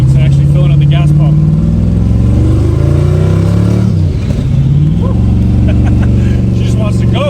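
A twin-turbo LS-swapped Chevelle idles loud and close, with a lumpy, throbbing low rumble and a brief dip and blip of the throttle midway before it settles back into its choppy idle.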